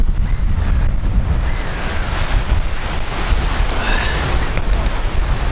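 Waves breaking and wind blowing on a November beach on the Norfolk coast, a steady loud roar of surf with buffeting wind across the microphone, with no voices.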